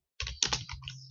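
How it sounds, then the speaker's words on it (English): Keys pressed on a computer keyboard in a short cluster of close, crisp clicks, with no talking. "I want to press this key."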